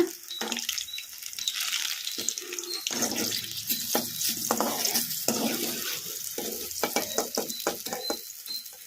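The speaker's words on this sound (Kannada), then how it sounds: "ಈಗ ಮೀಡಿಯಮ್ ಫ್ಲೇಮಲ್ಲಿ ಫ್ರೈ ಮಾಡ್ಕೊಂಬಿಡೋಣ ಕೆಂಪಗೆ ಕ್ರಿಸ್ಪಿ ಆಗೋವರೆಗೂ ಫ್ರೈ ಮಾಡ್ಕೊಂಬಿಡೋಣ" Cluster bean kurkure deep-fries in oil over a medium flame, with a continuous sizzle broken by irregular scraping and clinking as the pieces are stirred, close up and without talk.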